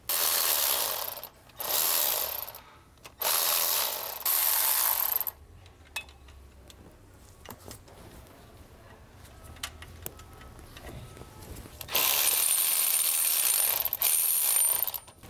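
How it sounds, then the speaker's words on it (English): A ratchet wrench clicks in several loud bursts while removing bolts from the back of an AC compressor on a small-block Chevrolet 305/350, with quieter mechanical handling between bursts. "we're going to remove three bolts on the back of the AC compressor here, here,"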